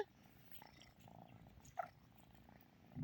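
A pet cat purring softly while being held, a low steady rumble heard up close but faint, over quiet room background.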